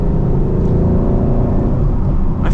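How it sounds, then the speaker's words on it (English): Engine of a 2014 Roush Stage 3 Mustang heard from inside while driving, a loud, steady, throaty drone with a rich low rumble that holds nearly constant throughout, no talking. "got that nice Mustang engine sound to it"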